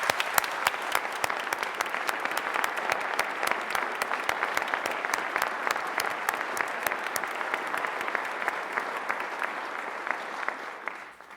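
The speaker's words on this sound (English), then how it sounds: "Let's give them a round of applause" A large audience at a South Dakota governor's budget address breaks into sustained, dense applause, steady and loud for the whole stretch before fading slightly at the end.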